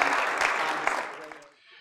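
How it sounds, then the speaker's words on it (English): Audience applause for a speaker at a talk, a dense steady patter of clapping that fades out toward the end. "we get a round of applause for Tom, please"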